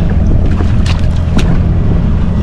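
A jet ski engine runs on open water while fishing off the Gold Coast, a loud, steady, close low rumble with wind buffeting and brief splashy hiss bursts, no voices over it.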